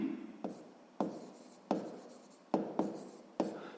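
A pen writes numbers in a notebook during a sixth-grade maths exercise: about six crisp scratching strokes, each starting sharply and trailing off, close and fairly quiet, with no talking.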